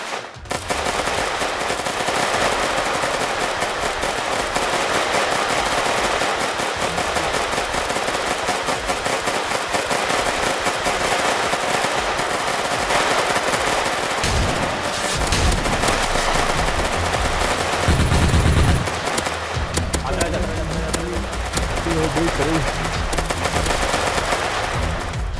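Sustained video game gunfire from GTA MTA roleplay, dense bursts of automatic weapons and repeated shots crackling loudly and continuously throughout, with a brief lull near the middle before the firing picks back up.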